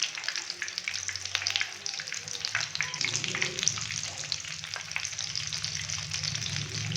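Potato triangle nuggets fry in oil with a busy, close crackle that builds and thickens midway as pieces are turned, punctuated by soft knocks of a utensil in the pan.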